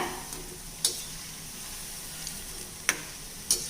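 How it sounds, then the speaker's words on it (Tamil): Bonda frying in oil over a medium flame, a continuous soft sizzle with a few sharp clinks from a ladle stirring, no talking. "இப்போ வந்து மீடியம் ஃப்ளேமில் வேக வைக்கிறேன்"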